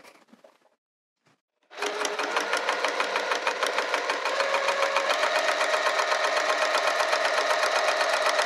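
A sewing machine topstitches a cork wrist pouch at a 3.5 to 4 stitch length: after a few faint handling taps and a short silence, it starts up and runs at a fast, steady, even clatter close by.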